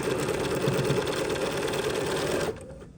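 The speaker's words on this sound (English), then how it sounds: "you probably are going to want to do like 5 stitches forward, 5 stitches backwards for like a back tack." Sewing machine running steadily as it stitches a fabric seam with a back tack, a loud continuous whirring hum that stops abruptly near the end.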